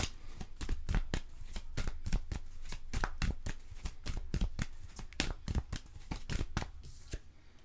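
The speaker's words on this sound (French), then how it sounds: "on va aller avec cet oracle-là, sortir un petit 8 cartes" Oracle cards being shuffled in quick, steady riffles, a dense run of crisp papery slaps close up for several seconds with no talking.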